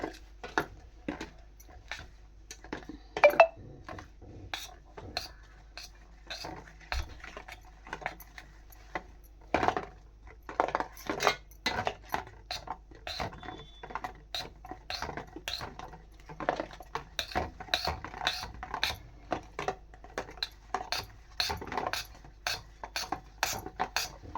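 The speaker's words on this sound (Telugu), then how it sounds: "పిండి వేసేసుకొని కలిపేసుకుందాం మొత్తం ఉంటలు లేకోకుండా కలిపేసుకుందాం" Wheat flour being mixed into cake batter at home, with sharp, irregular clinks and taps of a utensil against a bowl repeating steadily throughout, close and fairly loud, with no talking.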